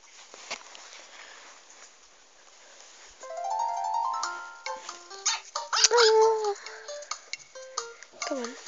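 Small cartoonish puppy yips and whimpers from the Nintendogs + Cats kennel, several short high calls clustered in the second half, over light game tones and clicks with no talking.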